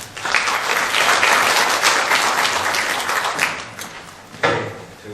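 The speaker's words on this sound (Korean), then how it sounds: "박수로 맞이해 주시기 바랍니다." Audience applause welcomes a Seoul National University professor to a Korean symposium on hanok as a Joseon-era cultural space, sustained and fairly loud, easing off before a brief final burst.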